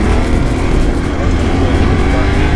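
A new Yamaha Tenere 700 motorcycle being run in on a test ride gives a loud, constant engine roar mixed with wind rush, steady throughout and close by.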